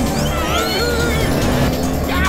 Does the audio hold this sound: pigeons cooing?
no